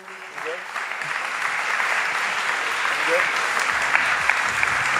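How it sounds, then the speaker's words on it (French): Hearty audience applause at an expo held in the Paris Hôtel de Ville, a dense, even wash of clapping from a large crowd that swells in and holds steady throughout. "sous vos applaudissements nourris"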